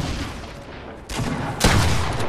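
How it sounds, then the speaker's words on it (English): Gunfire in the Fortnite battle royale video game comes as loud, close bursts of rapid shots, with a heavier blast partway through. "Good shooting, Cal, again."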